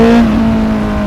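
A Honda CBR650R motorcycle engine revs loudly and close by near an underpass, a sustained high, buzzing roar that eases slightly over a second.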